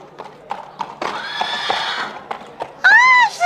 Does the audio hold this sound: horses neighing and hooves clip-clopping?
yes